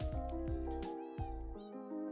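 A Minecraft cat meows several times in a row, clear, close and tonal, with each call rising and falling, alone without talk.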